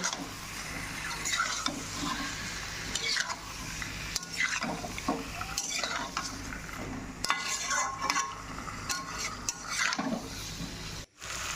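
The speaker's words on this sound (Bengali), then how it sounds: "এইবার আমি ওর মধ্যে দিয়ে দেব আলুগুলো ভাজা আলুগুলো ভাজা আলুগুলো দিয়ে আবারও সুন্দরভাবে করতে থাকবো" Fried potatoes are stirred into a sizzling spice masala in a pan, with a spoon scraping and clattering against the metal in irregular strokes over a continuous close frying hiss, without speech.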